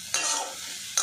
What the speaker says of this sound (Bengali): ভালো করে মিশিয়ে নেব মশলার সাথে, আর একটু নাড়াচাড়া করে নেব